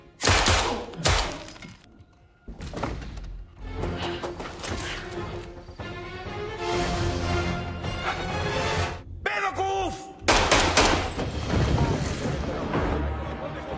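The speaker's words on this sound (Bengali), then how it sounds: "এরপর সিক্স ও ফিটরয় ফায়ারিং এর প্রস্তুতি নেয়।" Gunfire and crashing impacts in an action movie scene. Loud, dense bursts and smashing hits come over a tense soundtrack, and voices can be heard between the blasts.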